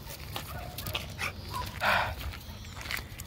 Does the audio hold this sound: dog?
yes